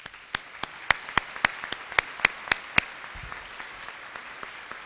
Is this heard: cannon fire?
no